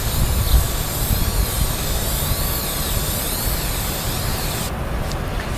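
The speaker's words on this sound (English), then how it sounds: "So I'm just going to do a cross weave on the spray." K&N air filter oil sprays from an aerosol can in a cross pattern onto a cleaned air filter, a loud steady hiss held for several seconds and then cut off abruptly near the end.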